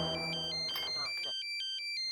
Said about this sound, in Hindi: साहब एक मिनट, फोन आ गया साहब।